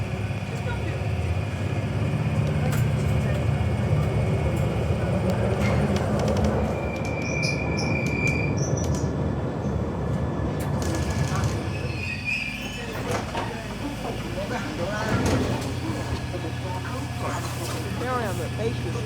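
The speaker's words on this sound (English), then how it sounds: "This is a Bakerloo line train to Queen's Park." A London Underground Bakerloo line train to Queen's Park rumbles along with a steady low drone and high squealing wheels, while an announcement and voices come through over the running noise.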